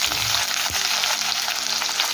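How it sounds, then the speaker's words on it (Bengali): Two medium chopped onions frying in hot oil in a kadai, a loud continuous sizzle close up with a stirring scrape near the start and no voices. "এখন দেবো 2টো মিডিয়াম সাইজের কোচানো পেঁয়াজ।"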